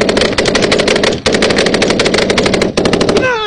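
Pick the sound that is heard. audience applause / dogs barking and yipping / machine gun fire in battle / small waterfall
machine gun fire in battle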